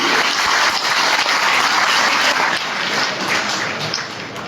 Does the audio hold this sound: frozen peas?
no